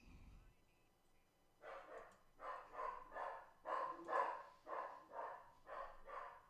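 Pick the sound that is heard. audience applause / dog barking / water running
dog barking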